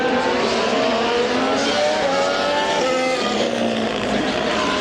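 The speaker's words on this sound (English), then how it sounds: "Whoa, look at the cars. Look at these coming round." Formula 1 race cars at the Austrian Grand Prix scream past on the track, a loud, continuous high-pitched engine whine with shifting pitch as several cars go by, heard from the trackside crowd.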